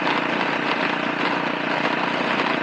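A modified Suzuki S40 Boulevard motorcycle engine runs steadily, a close, continuous buzzing drone with no talking over it.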